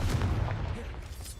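A Confringo fire spell explodes in the Hogwarts Legacy video game, a dense, rumbling blast that stays loud and full for its whole short length.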